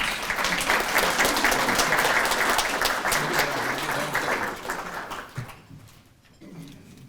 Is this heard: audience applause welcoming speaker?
yes